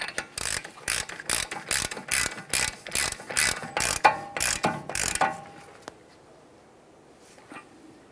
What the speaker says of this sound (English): When you go to tighten this, it's important that you tighten it with a hand tool only.